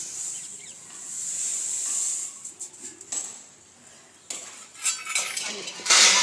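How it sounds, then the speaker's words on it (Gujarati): A spoon stirs sugar into milk in a metal pot while village-style milk peda are made, giving close, continuous scraping and clinking with a steady hiss and a few louder knocks near the end, with no speech. "400 ગ્રામ ખાંડ આપણે આ દૂધમાં નાખી દઈશું।"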